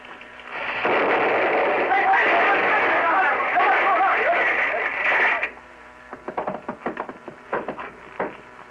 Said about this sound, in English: I meant it to explode entirely outside the building.